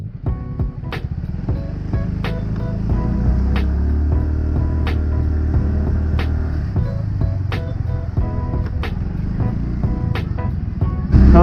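A Yamaha Fazzio 125 motor scooter is ridden on the road, its steady engine hum and wind rumble continuing throughout, with sharp ticks recurring at regular intervals.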